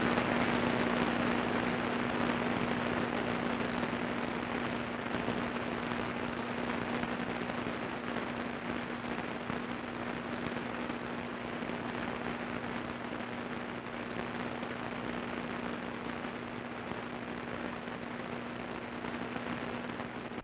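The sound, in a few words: rushing noise on a radio band as it opens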